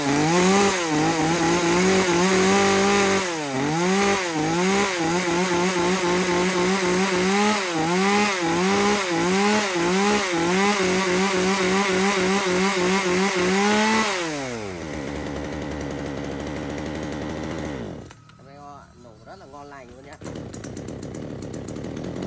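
A small Japanese 36cc petrol chainsaw runs close and loud on test, revving hard in a rapid repeated rhythm for most of the run, then winding down to a lower, steadier idle before a brief final rev.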